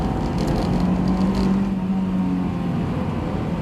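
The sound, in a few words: Honda S2000 engine accelerating at full throttle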